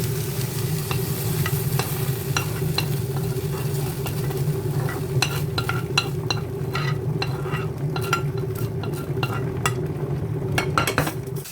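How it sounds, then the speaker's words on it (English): Almonds lightly frying in a pan, a steady low sizzle throughout with scattered clicks and scrapes of a utensil stirring, growing busier toward the end. "Lightly fry the almonds."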